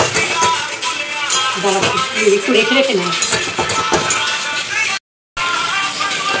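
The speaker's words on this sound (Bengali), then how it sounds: "এখন ভালো করে কষাতে হবে" Spices cooking down with tomato, papaya and potato for a mutton dish, sizzling in a pan under close, loud clatter and scraping of a spoon against metal, with a brief cut to silence near the end.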